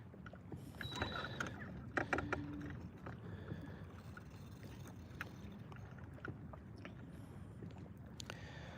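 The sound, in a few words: fishing boat cruising on the water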